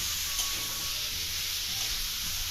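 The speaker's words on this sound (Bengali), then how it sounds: "এবারে ডালটাকে কিছুক্ষণ নাড়াচাড়া করে ভেজে নেব।" Soaked moong dal stir-fried in a pan, a dense continuous sizzle with faint stirring underneath, close and even, no talk.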